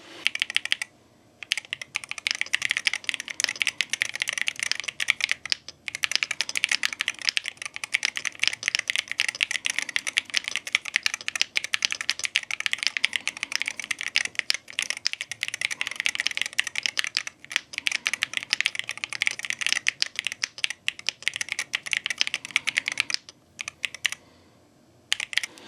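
Rapid, continuous typing on a MAD 68HE mechanical keyboard with magnetic switches and its original foam inside, crisp close-up clacks with a few brief pauses.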